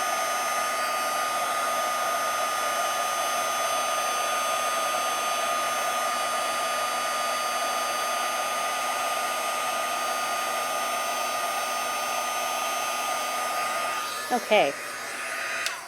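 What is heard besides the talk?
heat gun embossing a stamped card design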